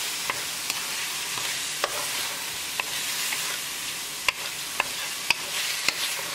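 Chicken pieces are stirred with salt and black pepper in a hot pan, a continuous sizzle broken by regular sharp scrapes and taps of the spatula against the pan.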